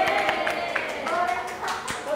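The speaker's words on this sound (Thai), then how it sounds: "ปรบมือ" A crowd at a brand anniversary fan event claps in rapid, uneven bursts, with talk and cheering mixed over the clapping throughout.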